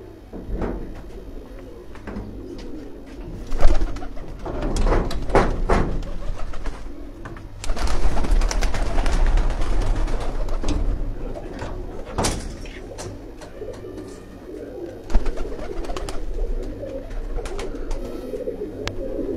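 Breeder pigeons coo in soft, repeated throaty calls, with several louder bursts of cooing, occasional clattering knocks, and faint voices in the background.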